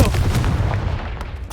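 A booming Confringo blasting-spell explosion in the Hogwarts Legacy video game erupts loudly, followed by a dense rumbling roll of blasts and debris that fills the whole moment.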